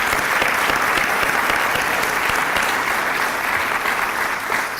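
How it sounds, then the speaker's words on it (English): An audience applauds a soldier's wife and two children at a service celebration: dense, steady clapping from many hands, loud and sustained throughout with no speech. "And a round of applause for them."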